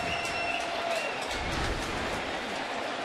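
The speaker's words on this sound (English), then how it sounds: "Castillo gets the big roar from the crowd" A Mets ballpark crowd in 2009 roars steadily and loudly at a routine pop-up catch, a dense wash of cheering and scattered clapping filling the whole stretch without a break.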